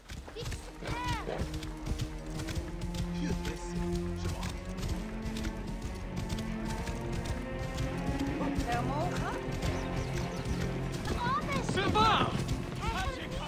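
Hooves of a horse in Assassin's Creed Origins clop in an uneven rhythm beneath continuous talking, with other game sounds mixed in.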